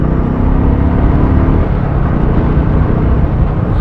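A Royal Enfield Classic 350 motorcycle engine runs loud and close, a steady, deep throbbing rumble with a dense low pulse that holds evenly throughout, with no voices.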